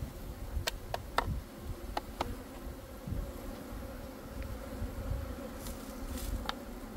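Honey bees buzz steadily around a newly moved hive at an apiary, close and continuous, with sharp ticks of individual insects darting past the microphone and no talking.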